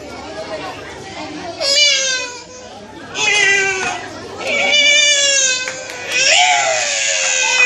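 A human voice imitates two cats fighting, with yowling, wavering caterwauls rising and falling in repeated bursts, loud and close.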